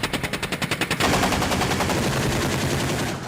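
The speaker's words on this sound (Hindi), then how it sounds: "दुश्मन के ठिकानों पर ताबड़तोड़ अंदाज में गोलियां भी बरसा सकता है।" Animated BMPT Terminator fires a machine gun in a rapid, evenly spaced burst of loud shots, which merges into a dense, sustained roar of continuous gunfire.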